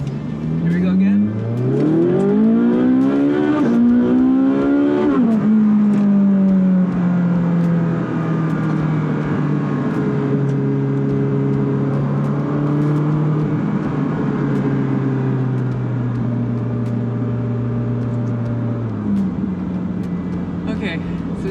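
A Ferrari 458 Speciale's engine and exhaust rev hard, sweeping up in pitch twice before settling into a loud sustained drone that sags and then fades, with a voice faintly underneath.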